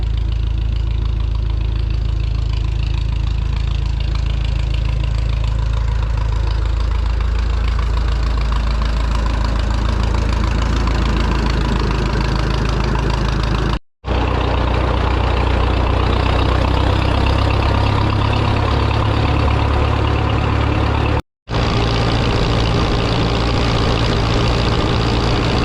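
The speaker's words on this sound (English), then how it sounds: "we'll hop on that tractor and get down the road" A Minneapolis Moline tractor engine idles steadily and loudly, with a low rumbling knock throughout and two brief dropouts.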